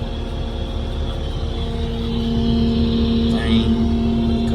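A Kubota skid steer engine runs steadily in a cab during field prep for wheat planting, a constant low drone with a sustained tonal hum and a brief rising whine near the end, loud and continuous.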